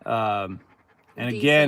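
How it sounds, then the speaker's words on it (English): A pet dog pants after playing ball, quick breathy huffs heard faintly between stretches of someone talking close by. "that is our dog panting."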